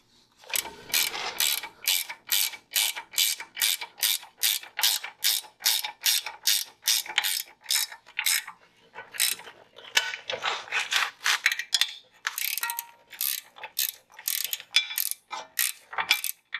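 A ratchet tightens caliper bracket bolts on a Powerstop big brake kit for an overlanding vehicle, loud close rapid clicking in repeated strokes with short pauses between runs.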